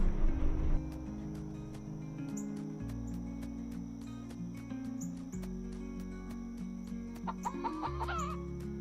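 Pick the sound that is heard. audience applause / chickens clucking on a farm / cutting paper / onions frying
chickens clucking on a farm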